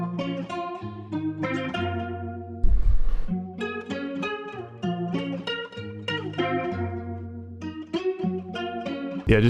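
Guitar sample run through an RC20 effect rack preset, the same melodic plucked phrases now coloured with added texture, noise and wobbly character, including a brief noisy burst partway through, steady and close.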